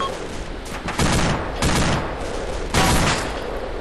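Gunfire in the military video game Arma: loud, rapid bursts of automatic fire, three heavy volleys stand out over continuous crackling shots close by, with no talking.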